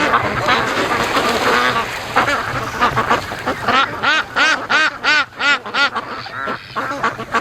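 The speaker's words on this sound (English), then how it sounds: "That's a mess of ducks right there." A large flock of ducks quacking on a lake, loud and close, with a dense stretch of overlapping calls giving way to a fast run of distinct repeated quacks.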